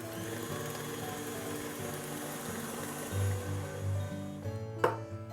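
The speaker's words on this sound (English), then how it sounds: "we'll beat it at medium speed for about 2 to 3 minutes until it's thoroughly mixed" Electric mixer beating cupcake batter at medium speed, a steady whirring motor hum with faint rattling, close and quiet, ending with a brief knock.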